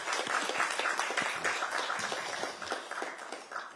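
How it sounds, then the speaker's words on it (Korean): Applause from lawmakers at a party floor leaders' strategy meeting in a parliament room, dense steady clapping from many hands filling the room for a few seconds, close and loud with no talking. "수고했다는 의미로 좀 박수 치면서 시작하도록 하겠습니다."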